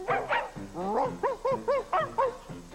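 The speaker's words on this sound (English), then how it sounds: "The Happy Meal Players present Ronald McDonald and his singing dogs." Singing dogs in a McDonald's Happy Meal advert with Ronald McDonald, barking in a rhythmic tune with about eight close, evenly spaced barks, with a few melodic yips at the start and music underneath.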